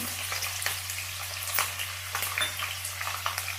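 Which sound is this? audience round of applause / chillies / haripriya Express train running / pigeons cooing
chillies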